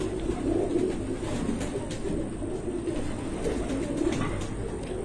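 Pigeons coo steadily in a breeding setup, with overlapping low, rolling calls repeating throughout at close range.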